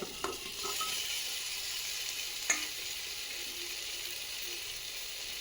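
Fried vegetables and soybeans are stirred together in spices in a hot pan for dry khichuri, giving a steady close sizzle with a few sharp scrapes and clinks of a spatula.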